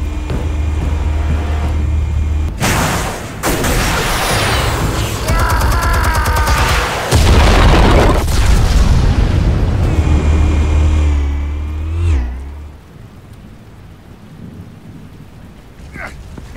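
Explosives detonate in the Batman Telltale Series video game, loud booming blasts and crackling debris rolling on for several seconds, then a rumbling tail that fades into quieter ambience.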